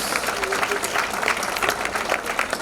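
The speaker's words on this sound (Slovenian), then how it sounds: "En aplavz za Kamničanko" An audience claps steadily at an outdoor May Day gathering in Opatje selo, a dense, even patter of many hands from start to finish.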